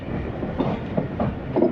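The Khushhal Khan Khattak Express rumbles past Attock Khurd railway station in a brief, steady, close roll with faint rhythmic wheel beats.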